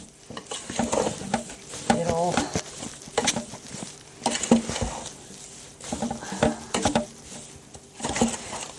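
Thick bath truffle frosting is stirred in a bowl, giving wet, sticky sloshing strokes in uneven bursts, close and fairly loud, with short pauses between passes.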